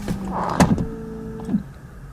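The door of a 2017 Audi S8 Plus is pulled shut, giving two dull thunks close by against a low background hum, with a brief mechanical whir between them.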